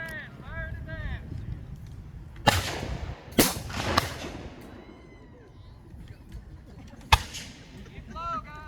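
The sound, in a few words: reenactors firing muskets at Ramsour's Mill battle reenactment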